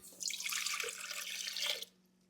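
Warm water poured into a bowl of dried yeast and sugar for pizza dough, a short steady splashing pour lasting under two seconds and then stopping, close and fairly quiet.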